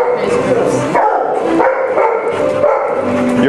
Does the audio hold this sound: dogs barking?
yes